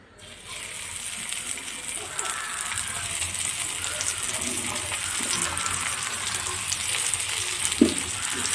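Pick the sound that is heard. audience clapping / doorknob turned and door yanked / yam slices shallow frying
yam slices shallow frying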